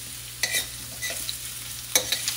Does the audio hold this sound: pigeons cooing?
no